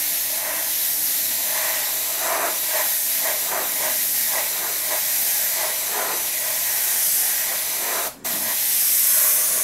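A double-action airbrush sprays Trident paint at about 30 psi, making a steady close hiss of air and atomised paint with soft pulsing surges and a brief cut-off near the end.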